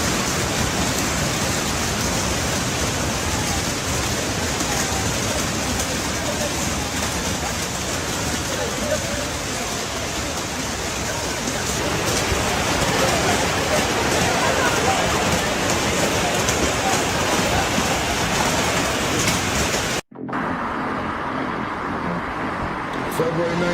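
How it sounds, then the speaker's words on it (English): Hail and rain pour down outside a supermarket in the English village of Godstone on a February day, a steady dense loud roar of pelting drops throughout, cutting off briefly near the end. "There's a hailstorm outside."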